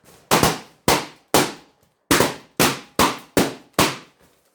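A rapid string of loud, sharp pops, eight bursts in a few seconds, each snapping off quickly with a short ring-out, like balloons bursting close by.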